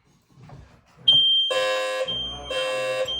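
Smoke alarms from a networked detector system shrill together in loud, continuous high-pitched tones, with a short chirp first and then two strong pulsing alarm bursts, very close and dominating the room.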